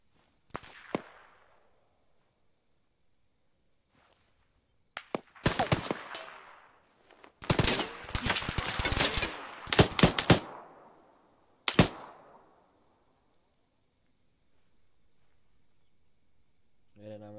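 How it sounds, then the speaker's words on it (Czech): Gunfire in ARMA 3 during a co-op mission: scattered single shots, then dense bursts of rapid fire and sharp cracks echoing over a quiet background, with a few isolated shots later. "Střelba"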